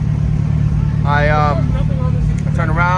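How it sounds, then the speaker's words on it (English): An engine idles steadily, a low constant rumble, while a person talks over it. "Engine sounds good."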